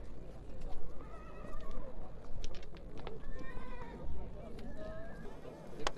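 Horses whinny and neigh at a busy livestock bazaar, several high calls rising over a dense crowd murmur with hoof clops and faint bleating sheep in the background.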